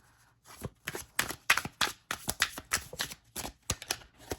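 Flimsy, bending tarot cards being shuffled by hand in a series of quick, crisp riffles and slaps, close and fairly quiet, with no talking.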